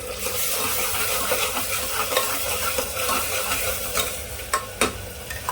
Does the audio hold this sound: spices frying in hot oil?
yes